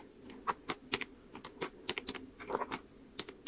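Plastic calculator buttons pressed one after another in an irregular run of light, close clicks, with no talking.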